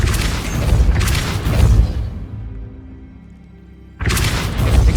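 A Repulso spell cast in Hogwarts Legacy lands as a loud, booming blast with a whooshing burst. A quieter gap follows, and then a second heavy impact.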